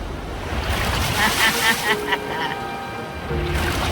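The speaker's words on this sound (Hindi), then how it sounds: "वो लहरें काफी बड़ी लग रही हैं और वो हमारी तरफ ही आ रही हैं।" Large ocean waves surge and crash near a rocky island shore, a broad, close wash of surf and rushing water mixed with wind buffeting the microphone, with a voice talking over it.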